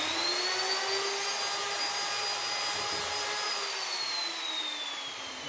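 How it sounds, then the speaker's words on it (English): A wood router spins up to cut a test piece while building a farmhouse cooler table, giving a loud, steady high-pitched whine with a slowly shifting tone and no talk. "So we're going to use this router and go from there."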